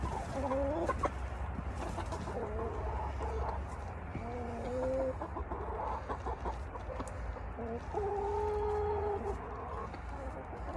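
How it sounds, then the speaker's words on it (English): A rooster with a big comb crows repeatedly among the other chickens, each call a drawn-out, rising and falling cry at close range. A steady low background hum runs under the calls. "Why are you crowing so much?"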